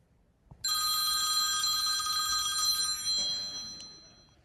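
A telephone ring tone sounds as an AI assistant places a call, one long electronic ringing burst that starts abruptly after a soft click and then fades out near the end.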